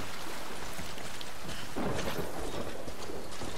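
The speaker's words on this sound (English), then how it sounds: "Rain coming again, I guess." Steady rain with a low rumble of thunder rolling in partway through, heard in the Death Stranding video game; continuous and fairly loud, with no voices.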